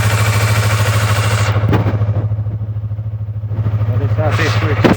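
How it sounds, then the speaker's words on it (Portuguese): A Yamaha MT-03 motorcycle engine idles close by with a steady low throb, a brief revving blip partway through before settling back to an even idle. "O som do motor é muito bonito."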